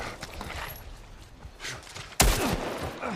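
A single loud gunshot cracks out sharply in The Last of Us Part 1 after a stretch of quieter in-game movement and shuffling.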